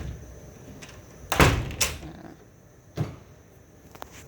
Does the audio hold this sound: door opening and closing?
yes